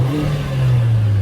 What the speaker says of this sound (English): just give it a couple of revs